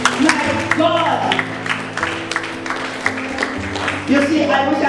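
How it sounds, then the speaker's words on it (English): Audience applause at a speaking event at a college of sports in Jamaica, steady clapping from a crowd lasting several seconds, moderately loud, with some voices mixed in. "Clap for that!"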